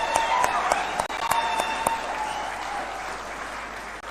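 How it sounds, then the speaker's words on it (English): An audience at a taxpayers' day event applauding, a loud burst of clapping with a few sharp individual claps standing out early, tapering into a softer steady patter. "Let's clap for that."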